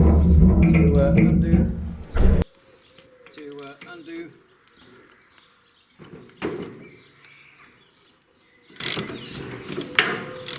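A spanner undoes the clamping bolts on a vintage Ferguson tractor axle during a wheel change, making sparse metallic clicks and scrapes after someone speaks, then a louder burst of clattering near the end.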